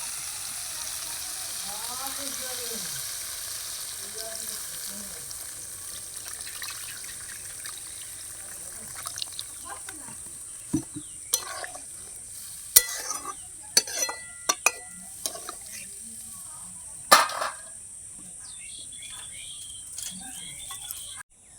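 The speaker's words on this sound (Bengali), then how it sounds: "আলুটা কষা হয়ে গেছে, জল দিয়ে কিছুক্ষণ ভেজে রাখবো" Spiced potatoes fry with added water in a pan, a low steady bubbling sizzle with scattered sharp clinks and scrapes of a utensil against the pan in the later half.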